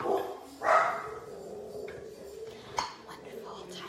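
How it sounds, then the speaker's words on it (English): Dogs in a home kitchen let out a short burst of barks early on, a little distant, under a person talking, with a fainter yip later. "Sorry about the dogs."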